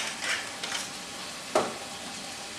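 Vegetables seasoned with pepper and pink Himalayan salt stirred in a pan, with a soft sizzle and a few scraping strokes, one sharper clack partway through, close and moderately quiet.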